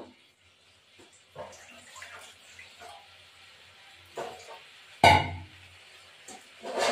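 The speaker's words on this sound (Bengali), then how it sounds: "এই পরিমাণ মতো একটু জল দেবো, বেশি জল না।" Water poured into a pan of simmering pointed gourd and prawn curry, a short splashing gush rising sharply about two-thirds through, amid quieter kitchen clatter.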